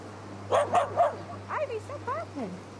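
A husky gives three quick, sharp yips followed by a string of whiny, rising-and-falling vocal yelps outdoors, moderately close and alone without human talk.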